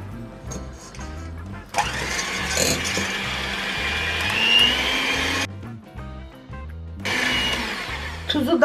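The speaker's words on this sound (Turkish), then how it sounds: "Şimdi yumurta sarılarımı mikserle çırpacağım." An electric mixer whisks egg yolks with a pinch of salt in a bowl, whirring loudly in bursts with short pauses and a rhythmic clatter of beaters against the bowl.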